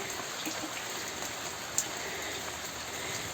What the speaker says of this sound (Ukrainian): Знову почався дощик. Чуєте, як шелестить?